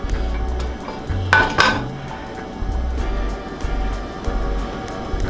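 A metal pan for braising asparagus is handled on a stovetop, giving several loud clanks and scrapes, with a sharp double clatter near the middle over a low background hum.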